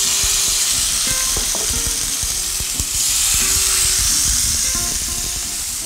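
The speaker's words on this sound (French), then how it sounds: "Et on va faire saisir les morceaux de volaille. J'ai mis un peu d'huile." Pieces of poultry sear in a little hot oil in a pan, a steady, close, broadband sizzle and hiss that runs continuously with small crackles and pops and no voices.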